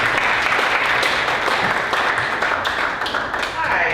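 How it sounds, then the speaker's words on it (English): Audience applause welcoming a speaker to the stand at a community celebration, a steady dense wash of clapping held at constant loudness throughout, with some voices mixed in underneath. "Can we give a round of applause, please?"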